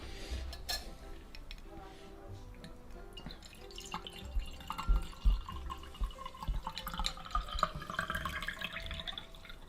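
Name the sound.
pouring a Grinch mocktail into a sugar-rimmed glass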